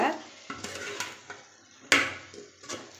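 Kohlrabi is sautéed with masala in a pot for a kuzhambu, producing irregular metallic clinks and scrapes of a spoon against the pot over a faint, soft sizzle, one louder clank near the middle.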